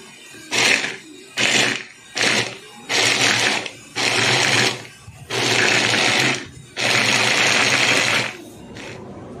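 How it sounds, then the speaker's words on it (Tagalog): A blender whirs through chili peppers in a series of pulses, short bursts at first and then longer runs, separated by brief pauses. "Gagamit tayo ngayon ng blender."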